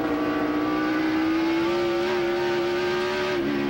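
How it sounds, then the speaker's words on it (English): A Busch Series race car engine at the 2006 Zippo 200 holds a high, steady rev with a slight rise, then briefly stutters near the end as it bounces off the rev limiter. "he's on the rev limiter there. You hear the engine cutting out."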